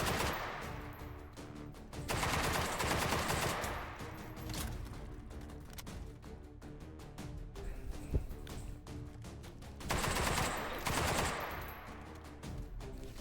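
Video game gunfire in rapid automatic bursts, loud and close, with dense rattling volleys separated by short pauses and mechanical clicks, and no talk over it.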